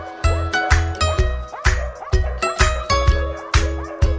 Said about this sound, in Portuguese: ouvir um latido bem alto e carinhoso do seu melhor amigo